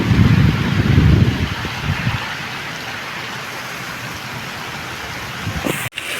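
Heavy rain pours down during a windstorm, a dense steady hiss that is loudest at first and then eases, with a sharp knock near the end.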